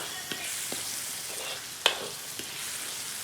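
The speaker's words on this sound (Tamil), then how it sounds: "தக்காளி வெங்காயம் எல்லாம் சேர்ந்து நல்லா வதங்கட்டும்" Tomatoes and onions sauté in oil as the base for a Sri Lankan seafood shell-out, giving a soft, steady sizzle broken by a few light stirring clicks and one sharper knock close by.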